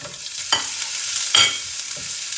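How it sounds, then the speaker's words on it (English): Garlic, curry leaves, red chillies and onions fry in a tempering for pepperwater, making a loud, steady sizzle. Three scraping stirs of a spoon rise above it, and nobody speaks. "Now I'll add in all the others: garlic, curry leaf, the red chillies, and the onions."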